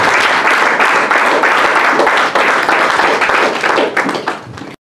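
Congregation applause and clapping in a church, a dense continuous wash of many hands lasting nearly five seconds before thinning out at the end.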